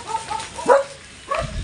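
A dog gives a few short, soft whimpering yelps with pauses between them, close by and fairly quiet.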